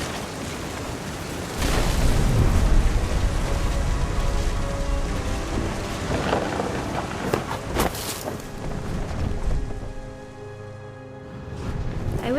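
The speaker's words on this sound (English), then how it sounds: "The thunder sounded much too close and full of angry power" Thunderstorm in the video game What Remains of Edith Finch: heavy rain and gusting wind with deep rumbling thunder swelling in strong bursts, a close, loud, turbulent roar that eases briefly before picking up again.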